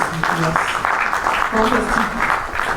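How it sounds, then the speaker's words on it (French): An audience applauds speaker Oswald Lewat, a steady wash of clapping lasting the whole clip with a voice running over it. "que nous vous demandons d'acclamer une fois de plus"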